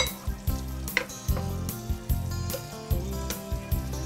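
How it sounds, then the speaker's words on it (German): Turkey layer roast simmering in a pan, a steady low bubbling sizzle broken by regular soft knocks and scrapes of stirring, close and moderately quiet with no talk. "Das lasse ich zum Moment einköcheln"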